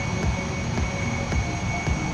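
A helicopter engine in a combat flight video game roars in a loud steady drone, with a soft periodic thump from the rotor recurring about twice per second.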